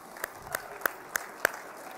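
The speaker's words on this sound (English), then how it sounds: "another round of applause for these gentlemen" Scattered hands clap at an American Legion fireside chat, a few distinct, sharp claps spaced about a third of a second apart over a faint hum of room noise, sparse rather than a full ovation.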